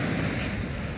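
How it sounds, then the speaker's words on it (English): Ocean surf along a flat, calm Florida coastline, a steady broad wash of small waves mixed with wind noise on the microphone, continuous and fairly close with no talking. "Check out the ocean. So flat."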